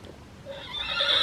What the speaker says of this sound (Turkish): Oo at yapıyor.